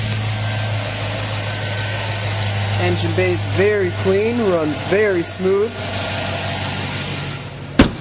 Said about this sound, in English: let's start it up, take a quick look under the hood. Here it starts right up.